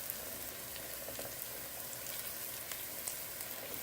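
Garlic and ginger frying in oil for chicken curry, a continuous fine crackling sizzle with small pops scattered through it, faint and steady, no voices.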